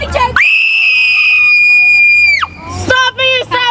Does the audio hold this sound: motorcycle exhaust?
no